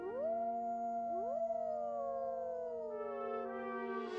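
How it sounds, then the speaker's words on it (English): Several wolves howl together, long sustained tones that rise and slide past one another, with one steady low note underneath, loud and clear and without other sounds. "and occasionally wolves howled"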